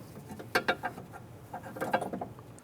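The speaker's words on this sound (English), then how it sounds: "Simply use your trim tool on the back side to go ahead and pop that through." Plastic trim tool pushing a retainer pin through the rear door panel of a 1995–2001 Ford Explorer, heard as a few close clicks and rattling taps in two short bursts.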